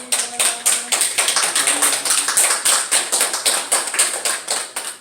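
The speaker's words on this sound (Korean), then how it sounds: "그리고 좀 다시 한번 크게 박수를 해주시면 좋을 것 같습니다" A church congregation breaks into steady, sustained applause, a dense crowd of many hands clapping loudly and continuously with fairly regular pulses.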